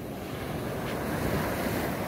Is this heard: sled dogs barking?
no